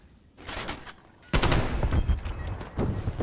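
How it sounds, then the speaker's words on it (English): Gunfire in a Call of Duty match, with a rapid burst of automatic shots followed by sustained overlapping fire close and loud, dense volleys running to the end. "Shots ring out."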